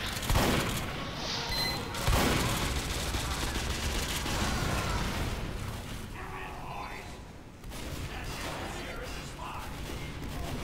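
Team Fortress 2 gunfire comes as dense, repeated bursts of shots with booming impacts mixed in, loud and close, with voices talking through the action.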